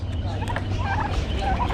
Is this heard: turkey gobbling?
yes